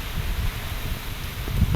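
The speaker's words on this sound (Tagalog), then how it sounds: "Sobrang lakas ng hangin." Strong gusty wind roars and buffets the microphone, with mango tree leaves rustling and thrashing throughout.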